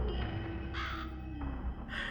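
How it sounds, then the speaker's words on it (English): A crow caws in Soul Reaver Remaster, two harsh calls standing out clearly over a steady low game ambience, one near the start and another at the end. "Get a nice close look at this crow."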